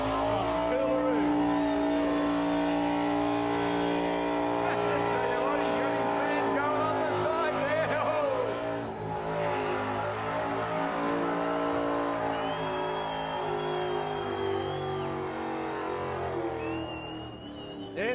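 A car revs hard during a burnout elimination at the Summernats event, its engine roaring loud and sustained with shifting pitch, while a commentator talks over it.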